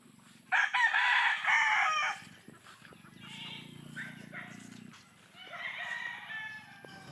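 A gamecock rooster crows loudly on a backyard farm where fighting cocks are bred, with a long crow near the start and a second, fainter crow toward the end, while people talk underneath.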